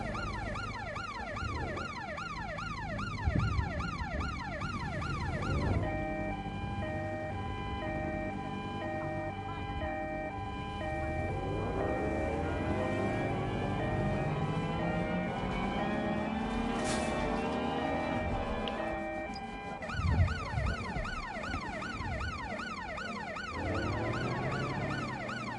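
Police car sirens wail in the video game Watch Dogs: Legion, rapid yelping cycles switching to a slow rising and falling wail and back, steady and fairly close over low traffic rumble.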